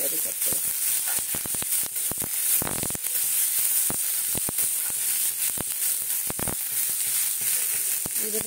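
Green peas and onions sizzling in a wok for an aloo paneer samosa filling, a bright steady hiss broken by repeated scraping knocks of stirring, close and fairly loud.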